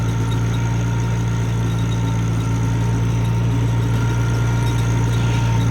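A Cub LoBoy tractor pushing snow into a deep drift, its engine droning steadily and loudly at close range with a constant low hum and no break.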